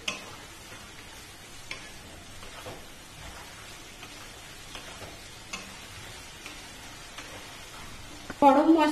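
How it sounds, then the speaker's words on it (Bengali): Masala with sugar, chilli powder, cashews and raisins sautéing in a pan for prawn pulao gives a steady, close sizzling hiss with faint stirring scrapes. A brief voice comes in right at the end. "ভালো করে কষবো।"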